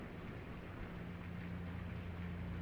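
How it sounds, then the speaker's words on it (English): Steady rain hissing in the video game Blue Prince, a dense continuous wash with a low rumbling undertone, even and unbroken throughout. "The sound of rain."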